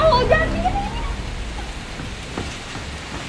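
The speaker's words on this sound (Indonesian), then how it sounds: "Astagfirullah, hujan." Steady rain falls outdoors as a continuous hiss through the whole stretch, with a voice speaking briefly over it at the start.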